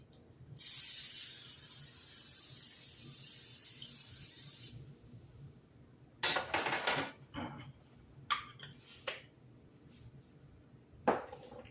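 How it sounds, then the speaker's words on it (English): A long steady hiss of cooking spray onto a baking sheet lasting several seconds, followed by light clattering and handling sounds. "I'm going to give it a light spray so the peanut brittle will come off of it."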